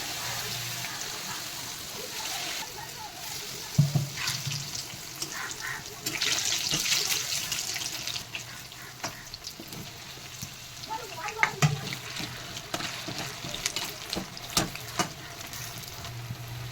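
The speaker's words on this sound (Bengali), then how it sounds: "তেলটা গরম হয়ে গেছে আমি একটা একটা করে ছাড়বো" Cabbage and cauliflower pakoras fry in hot oil for a Manchurian, giving a steady soft sizzle with occasional louder crackles and clinks, close and without speech.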